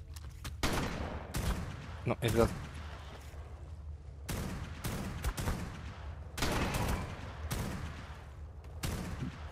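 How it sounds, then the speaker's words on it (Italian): Several loud, sharp pump-action shotgun blasts boom at irregular intervals in the video game Ark: Survival Ascended (Aberration), with a voice talking briefly between the shots. "aspetta che ti sparo col fucile a pompa."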